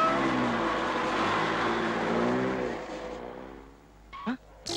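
A taxi's engine hums and pulls away steadily, fading out as the car drives off, with a couple of sharp sounds right at the end.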